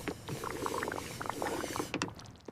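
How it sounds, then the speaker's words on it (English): Water poured into a glass in a kitchen, a steady close gurgling and splashing stream that fills the glass and stops abruptly near the end. "I pour water into a glass."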